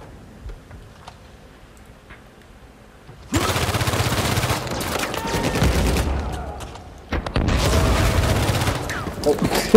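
Heavy gunfire and explosions from an RPG firefight in the video game Uncharted 4 burst in loudly after a quiet start, then roll on as a dense, sustained barrage that dips briefly before surging again.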